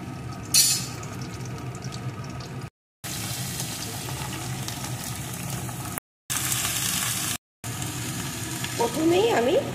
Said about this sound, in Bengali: কাঁচা লঙ্কাগুলো একটু ভাজা ভাজা হলে এর ভিতরে আমি পেঁয়াজ কালিগুলোকে